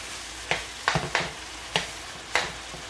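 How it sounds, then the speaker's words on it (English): Ground meat browning for homemade lasagna, stirred in a sizzling pan: five or six distinct scraping strokes at uneven intervals over a steady, close frying hiss. "stir this around, let it come back"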